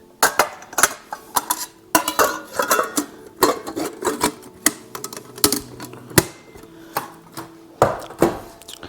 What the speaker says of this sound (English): It's got all the things that you would expect out of a mess kit: a cup, a pot, got a little bitty pot there, a pan, and a plate.